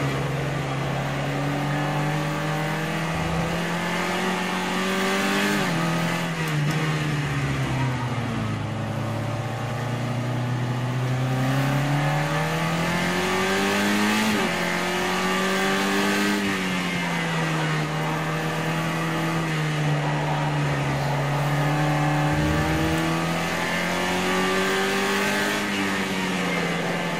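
A sportscar engine in the racing game Project CARS 2 revs continuously, its pitch rising and falling through gear changes over a long steady drone, loud and close with no talking.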